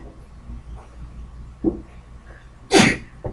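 A single sharp human sneeze bursts out loud and close near the end of a quiet indoor moment during a math lesson on solving systems of equations, after a small catch of breath and some faint background shuffling.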